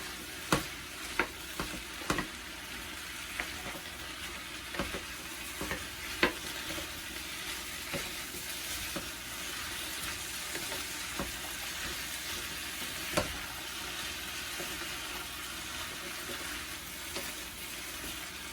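Sazon-seasoned food mixed in a pan, with steady sizzling and frequent scraping clicks of a utensil against the pan through the whole stretch, close and with no speech.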